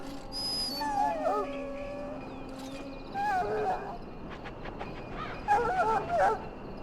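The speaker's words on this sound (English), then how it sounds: "Now I can treat the dog properly, poor fella." A wounded war dog whimpers and yips in Dragon Age: Origins, high whines and short cries in bursts over background voices and game ambience.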